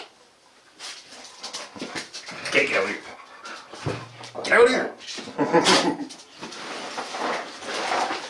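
A dog whimpers in brief high whines scattered between bursts of someone talking nearby, with shuffling and rustling in an indoor room.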